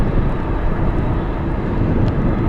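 A cargo airplane taxiing toward the south terminal at Anchorage airport in gusty wind, a steady low engine rumble mixed with buffeting wind noise, continuous and fairly loud with no talking.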